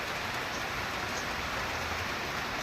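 Steady rain falls outside a house terrace, an even, continuous hiss of drops with no other sounds standing out.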